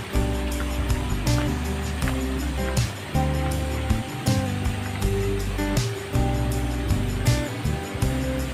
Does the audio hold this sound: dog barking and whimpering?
no